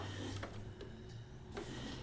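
A sewing machine stitching a paper-pieced quilt block, heard as a faint, steady mechanical whir with light rhythmic ticking, quiet and uninterrupted for about two seconds.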